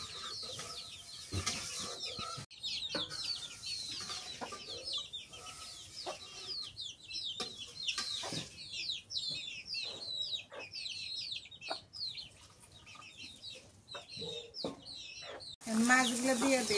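Village chickens with chicks clucking and chirping close by in a busy, continuous chatter, with a few wing flaps and a louder rustle near the end.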